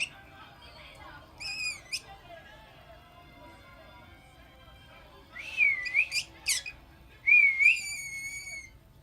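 A green-cheeked conure gives short, bright whistles with rising and warbling pitch, one near the start and a cluster of louder calls toward the end, separated by quieter stretches.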